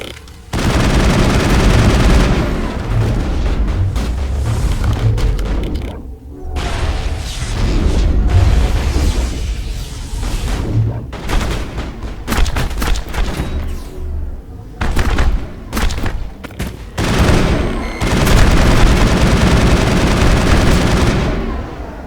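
Dense firefight against Geth in the video game Mass Effect, sustained loud rapid weapon fire with bursts and booms running almost without pause, heavy and near.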